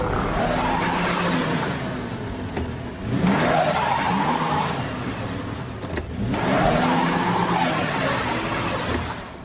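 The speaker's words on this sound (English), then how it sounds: "he gets the car stuck in a ditch" A car stuck in a forest ditch revs hard in two long bursts, engine roaring and wheels spinning with a skidding whine, dropping briefly between attempts; loud and close with no talk.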